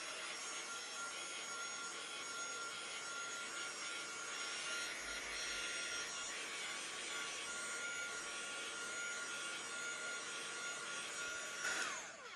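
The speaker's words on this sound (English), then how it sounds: "I can let this dry naturally, or I can just use my heat gun and just quickly dry it." A heat gun dries stenciled paint on an apron, heard as a continuous, even blowing roar that holds steady throughout without pauses.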